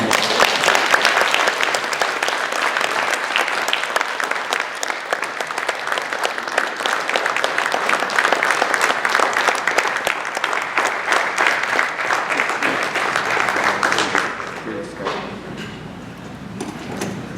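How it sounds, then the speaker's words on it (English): Audience applause following a keynote speech on rehabilitation, a dense sustained clapping from a large crowd that fills the room steadily for about fourteen seconds before thinning out and tapering at the end. "I think he needs another round of applause."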